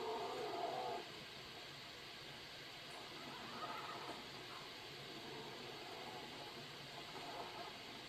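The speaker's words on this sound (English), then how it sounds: "There's the pale horse." A pale horse neighs in the Skyrim video game, a short whinny right at the start, then a steady game ambience with faint rumbling carries on alone.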